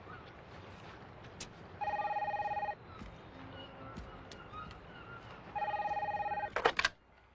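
A telephone rings in two electronic bursts about a second long, separated by a pause, fairly close and clear over a quiet room, followed by brief clattering handling noise.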